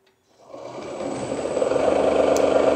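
An electric motor on an M3645 line regen drive spins up from silence, its steady whirring hum rising and settling into a continuous close drone.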